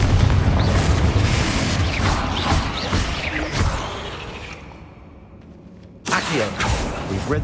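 A Confringo fire spell explodes in Hogwarts Legacy, a loud booming blast with crashing debris and whooshes that fades to near silence before another burst of combat noise erupts.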